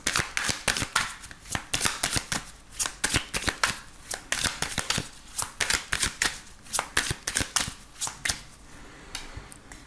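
Oracle cards being shuffled by hand, a quick run of crisp, close riffling and slapping bursts repeating in a steady rhythm, with no talk.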